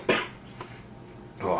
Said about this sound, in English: oh, excuse the cough there.